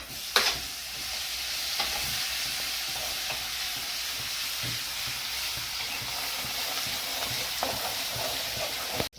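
Ginger, chili and garlic paste sizzling in hot oil in a kadhai, a steady loud hiss with occasional crackles and stirring scrapes, no talking.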